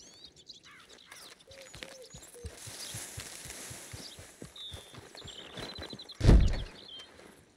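A horse walking in the Red Dead Online video game, hooves clip-clopping in a regular, fairly quiet rhythm, with birds chirping in the background and one louder thump near the end.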